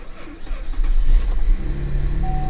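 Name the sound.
used car engine starting roughly, possible misfire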